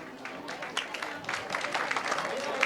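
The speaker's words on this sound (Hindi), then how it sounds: "हम जोरदार तालियों से इनका स्वागत करेंगे।" An audience at a school event in Bhopal claps to welcome a guest, a moderate patter of many hands that grows denser, with a voice speaking over it.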